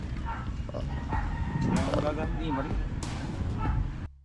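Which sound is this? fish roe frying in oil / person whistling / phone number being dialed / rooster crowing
rooster crowing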